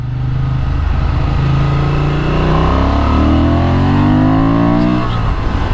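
A 2023 Honda Transalp XL750 motorcycle in standard riding mode pulls hard through the gears, its loud, close engine note climbing in pitch, easing off and building again over several seconds, with no talking.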